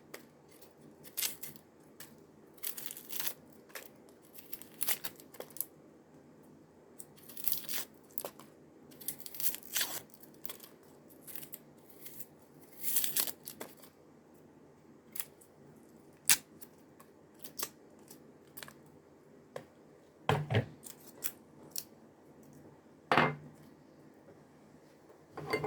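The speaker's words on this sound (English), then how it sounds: "take off your two ends, peel your layers." Knife trimming the ends off an onion and peeling away its layers, a long series of close, crisp snips, crackles and crinkles with short quiet gaps and no talking.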